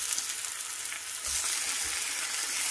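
Turkey rashers fry in a hot iron skillet with a steady, close sizzle that swells louder partway through as they are moved around, with a few low bumps from the pan.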